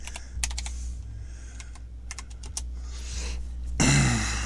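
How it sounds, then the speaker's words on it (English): Clicky typing on an Acer Chromebook C720/C740 keyboard, several quick bursts of key presses close by over a steady background hum, ending in a louder burst of noise. "Let's try out our keyboard."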